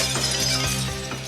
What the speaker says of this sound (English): So the practiced professional can use amplification to smash glass.